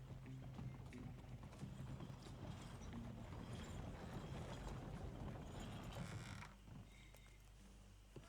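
Horse hooves clip-clop steadily in the Red Dead Redemption 2 video game, a loud continuous rhythmic trotting with creaking tack and a neigh, fading at the end.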